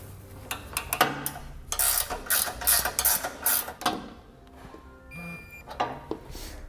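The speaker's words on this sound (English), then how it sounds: "go ahead and torque down your 2 bolts that are going into your base plate" A 3/4 inch socket and wrench torque the two bolts of a Roadmaster crossbar-style base plate on a 2015 Chevrolet, giving quiet, irregular metallic ratcheting clicks and rubbing close by, with no talk.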